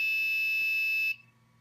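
A piercing, steady high-pitched tone from a buzzer on an Arduino proximity-sensor setup sounds loudly, then cuts off abruptly, leaving a faint low hum.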